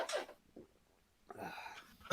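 A single sharp sneeze bursts out at the start, followed by a quiet pause and then a second noisy exhalation or sneeze-like burst near the end.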